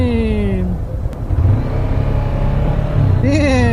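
A Honda Hornet 650 motorcycle, in neutral, starts and revs, rising sharply in pitch near the start and again near the end. Its idling rumble fills the gap between, while someone talks nearby.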